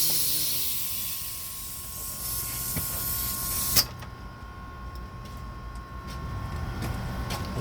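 A loud hiss of escaping compressed air from a pneumatic jack lifting a large concrete mixer truck's axle fades out, then a sharp click, followed by quieter mechanical whirring and a steady hum.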